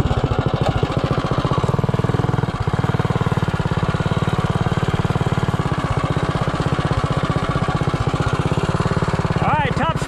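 A 212 Ghost engine on an Azusa minibike running flat out at top speed, a loud, steady, buzzing drone close by that holds for the whole run with only a brief dip.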